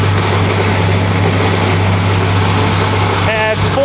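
A farm feed grinder runs with a loud, steady low mechanical drone and hum, filling the whole stretch without a break, with a brief higher tonal sound near the end.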